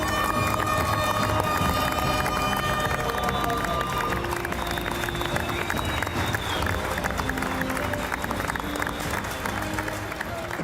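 Studio audience at a Fort Boyard television taping breaks into sustained applause, a dense crackling wash of clapping with scattered cheers that holds steady for about ten seconds.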